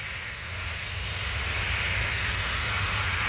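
Transavia Boeing 737-800 jet at Orly airport, a steady broadband engine roar and hiss that swells slightly and holds loud and continuous throughout, with no talking.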